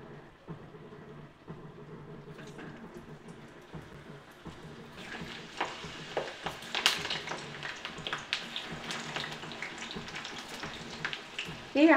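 Boiled potatoes hit hot oil for chicken biryani, and a soft background hiss swells into louder crackling and spitting halfway through.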